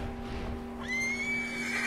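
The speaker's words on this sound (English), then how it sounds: "Oh, there is a horse in there." A horse whinnies in the game Red Dead Redemption 2 with a rising, drawn-out neigh over a steady electronic hum, clear and fairly close.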